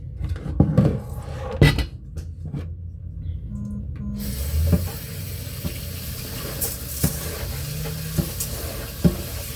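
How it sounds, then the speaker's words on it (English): Rice is washed by hand in a pot, with grains and water swished and stirred and sharp knocks against the pot's sides through a steady rustling wash. "So I'm washing the rice"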